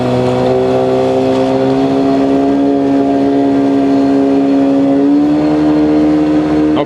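An outboard motor on an inflatable boat with a punctured left tube drones steadily at close range, its pitch holding level then stepping up slightly as it revs while maneuvering, loud and unbroken.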